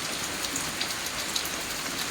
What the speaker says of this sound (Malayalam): പുറത്ത് നല്ല മഴ